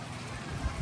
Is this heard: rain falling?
yes